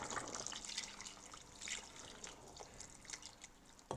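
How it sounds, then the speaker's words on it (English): Milk pours into a pot on the stove, a faint, soft liquid trickle and splashing heard close by for a few seconds with no voices. "And I'm going to add milk."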